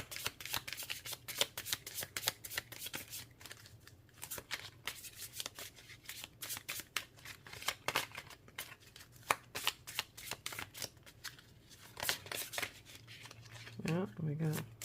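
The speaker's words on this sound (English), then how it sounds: "as I'm trying to shuffle these cards" Tarot cards being shuffled over and over in a quick, papery riffling rhythm, close to the microphone, with a person talking intermittently throughout.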